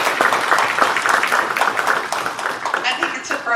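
Applause for hardworking volunteers at a board planning meeting, a dense steady wash of clapping from a roomful of people lasting throughout, with some voices mixed in.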